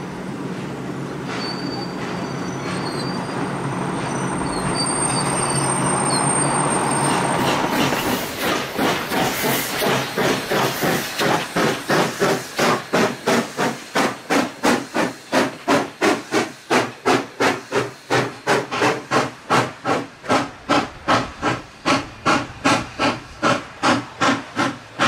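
A steam locomotive in Duluth starts pulling forward uphill from the depot on Lake Superior: a long hiss of steam gives way to loud, rhythmic chuffs that pick up pace and grow steady as the train gets moving.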